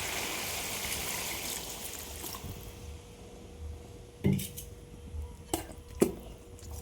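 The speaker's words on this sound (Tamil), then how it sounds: "இப்போது இதுக்கு தேவையான கறி வேகத்துக்கு தேவையான தண்ணி லைட்டாக ஊற்றிக்கலாம்." Water streams steadily into a pan of meat curry for about two seconds, then the pan settles into quiet simmering broken by a few sharp clinks of a utensil.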